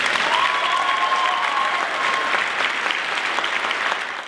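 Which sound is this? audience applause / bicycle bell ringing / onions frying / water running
audience applause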